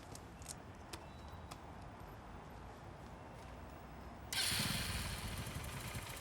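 A motorcycle engine starts and pulls away partway through, a sudden loud broadband rise of engine noise after a few seconds of steady background rumble.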